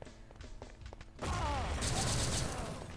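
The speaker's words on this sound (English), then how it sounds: "That's a nade that did tons of damage" A grenade blows up in a first-person shooter during a national-team semi-final match, a loud sudden blast that swells and rolls on after a stretch of quieter game noise and faint voices.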